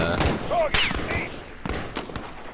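Scattered gunshots during the Embassy mission of the Modern Warfare video game campaign, sharp separate cracks spaced irregularly, with short voice fragments in between.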